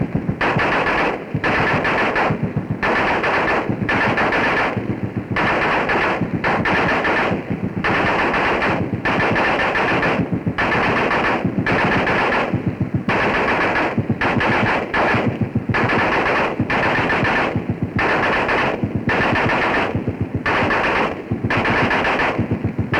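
WWII infantry machine guns firing heard from the receiving end, long loud bursts of rapid automatic fire repeating in a steady rhythm with brief gaps between them, harsh and continuous with no talk.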